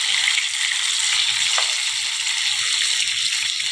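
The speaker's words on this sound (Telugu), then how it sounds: "చేప ఫ్రై ఇంకో టర్న్ తీసుకుందామండి" Fish pieces fry steadily in hot oil in a pan, a continuous close sizzle and crackle that holds evenly throughout with no talk over it.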